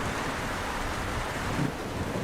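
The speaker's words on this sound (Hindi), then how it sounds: "थोड़ी ही देर में तूफान के साथ साथ बारिश भी शुरू हो गई।" Cartoon storm with wind and rain, a dense steady whoosh of gusting wind and hissing downpour with low rumbling underneath, loud and unbroken.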